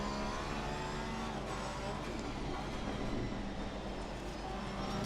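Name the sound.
race car engines in the Assetto Corsa Competizione video game, Brands Hatch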